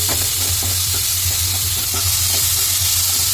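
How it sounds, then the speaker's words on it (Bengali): Potatoes coated with turmeric and salt frying in a pan while being stirred, producing a loud, steady sizzle with repeated scraping strokes running throughout. "আলুগুলোকে হালকা একটু ভেজে নেব এইভাবে নেড়ে ফেড়ে"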